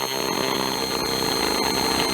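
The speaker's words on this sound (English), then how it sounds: "I can just use this little drill bit, almost like a milling tool" A small drill bit used like a milling cutter grinds out partly cured JB Weld epoxy while repairing a vintage 1950s Pinnock sewing machine, a steady, loud, continuous high-pitched whine with no talk over it.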